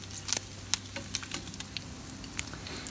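Bacon sizzling and crackling in a pan on an outdoor grill, with a steady frying hiss broken by sharp pops and spatters throughout.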